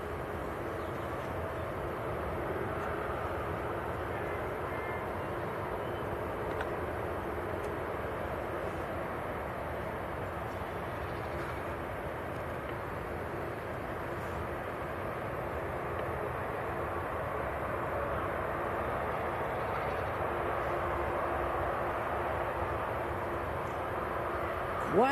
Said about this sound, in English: Quite a lot of aircraft coming out at the moment.